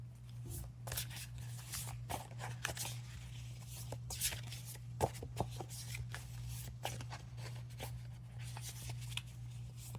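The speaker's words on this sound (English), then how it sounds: "Let's pull some clarifying cards." Paint chips used as cards being pulled and handled from a deck in a quiet room: soft repeated papery flicks and shuffling snaps over a steady low hum, with faint speech.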